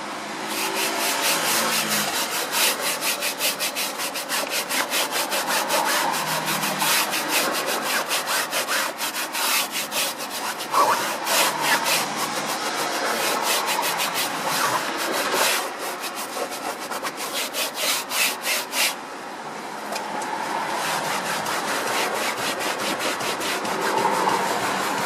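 A small brush scrubs a car interior during detailing, giving a steady, close, rasping back-and-forth scrubbing with rapid strokes that runs nearly continuously for the whole stretch, with no talking.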